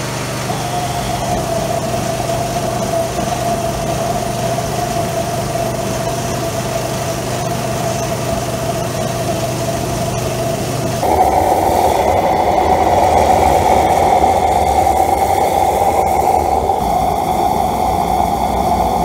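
A compressed air assisted propane burner running with a loud, steady roar and hum that jumps to a stronger, harsher rush about two thirds through as it ignites or flares up, close by with no talk.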